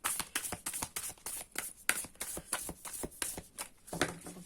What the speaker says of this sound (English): one more shuffle. The last shuffle.